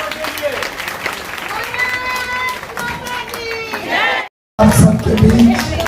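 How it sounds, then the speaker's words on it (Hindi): A large crowd of women claps and cheers for the sisters at a Ladli Behan gathering with a Union Minister. Voices mix with the noisy applause, which drops out briefly and then surges back loud and close. "जरा जोरदार तालियां होनी चाहिए इस बहनों के लिए"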